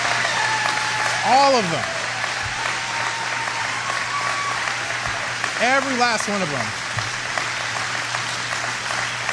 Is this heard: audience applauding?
yes